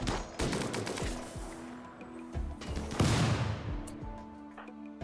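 Rapid bursts of gunfire and sharp launches in a RimWorld battle, with a smoke launcher firing among them. Loud cracks and booms repeat irregularly over a dense, continuous din, with no talk over them.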